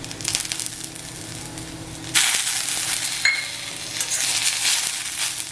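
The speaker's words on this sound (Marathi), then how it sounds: "कोथिंबीर पण अशी फ्राय करून ना" Coriander with ginger and garlic frying and being stirred for chicken gravy; a moderate sizzle jumps louder as the ingredients go in, with scraping stirs through the loud hiss and no talking.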